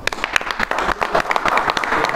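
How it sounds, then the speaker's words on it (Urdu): Applause from the audience at a literary gathering of Bazm-e-Waris Shah at the Pakistan Writers Guild, dense irregular clapping with sharp individual claps, fairly close and loud, with a few voices underneath. "بہت سی تالیاں"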